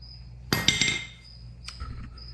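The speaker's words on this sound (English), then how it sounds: "Then let's pull the bolt right on out." A bolt is pulled out of a Nissan 300ZX tension rod, giving one sharp metallic clink and a brief rattle followed by a fainter second tap, close up over a quiet background hum.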